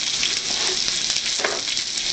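Tomatoes and zucchini frying in a pan for a garden stir fry, a loud, dense, continuous sizzle heard up close with no talking.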